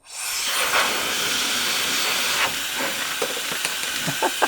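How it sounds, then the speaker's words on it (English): Loud continuous hissing blast of air from a cordless electric air duster through a nozzle attachment, steady throughout, with a few light knocks and clatters toward the end. "that is putting out a pretty considerable amount of air"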